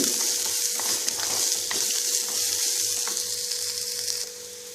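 Onions frying in a pan for a Tamil beetroot stir fry, giving a constant bright hiss of sizzling oil with faint soft stirring underneath and no talk, easing slightly in the final second.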